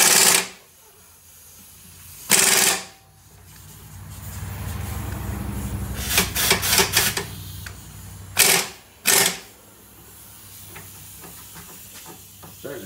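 Pneumatic impact wrench tightening a rear independent suspension bolt while a hand wrench holds the other side, with several short rattling bursts spread over a hissy, steady shop background.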